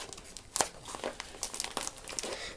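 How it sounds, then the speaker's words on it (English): Plastic tape crinkles and tears in short bursts while being pulled and pressed onto a handmade DIY squishy, close and fairly quiet with a few sharper rips. "you grab another piece of tape over here"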